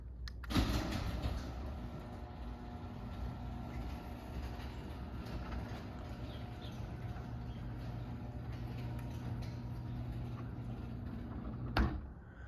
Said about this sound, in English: now we'll go ahead and close the small door back up